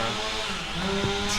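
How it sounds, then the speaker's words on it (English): A chainsaw cuts down a neighbor's tree somewhere off to the side, a continuous buzzing whine heard at moderate distance with a steady, unbroken drone. "Sorry for the chainsaw noise."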